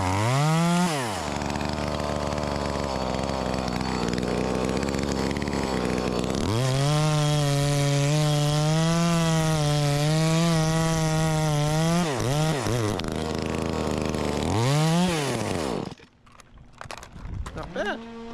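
A small 12-inch-bar chainsaw, a knock-off of the Echo 2511T, saws through a cedar log about five inches thick, its engine loud and close, bogging into the cut and revving up between passes, then idling down near the end.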